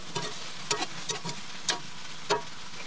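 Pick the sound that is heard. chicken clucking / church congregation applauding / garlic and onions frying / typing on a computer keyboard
garlic and onions frying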